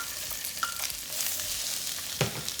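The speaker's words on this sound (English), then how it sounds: "once the oil is nice and hot, we're going to add our onion" Chopped onion hits hot oil in a pan over medium-high heat and sizzles steadily, with a few close stirring scrapes and clinks over the constant frying hiss.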